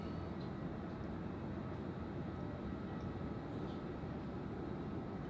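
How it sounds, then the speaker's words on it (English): An Etihad Boeing 787 airliner on the runway at Zurich Airport gives a steady, distant jet engine roar, low and even throughout with no other distinct sounds. "So, Etihad 787 on the runway."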